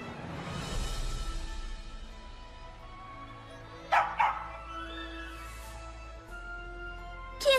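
A dog barks and yips with whimpering whines indoors, the yelps coming in short bursts around a few louder barks, fairly close.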